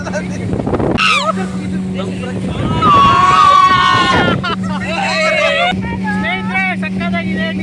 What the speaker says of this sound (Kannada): Speed boat ತಗೊಂಡಿದ್ವಿ.